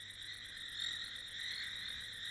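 Rain frogs calling in a steady chorus, rapid rhythmic pulsing croaks repeating in a regular train, fairly faint and distant-sounding, with no voices.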